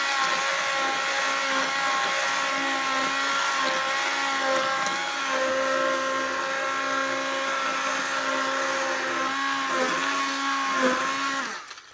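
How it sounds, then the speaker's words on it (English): An immersion blender whirs steadily as it blends homemade all-natural lotion, a loud continuous motor whine with shifting pitch that holds for about twelve seconds, briefly dipping near the end. "So I'm just gonna blend it up."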